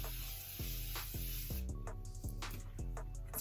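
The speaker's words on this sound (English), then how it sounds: "Continuous Setting Mist" Morphe Continuous Setting Mist sprayed in quick repeated bursts, a series of close, short hissing puffs in an uneven rhythm.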